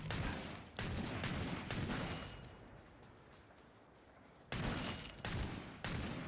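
Killing Floor 2 shots come in clustered bursts, loud and close, one early volley and a later series of three or four sharp blasts with a quieter lull between them.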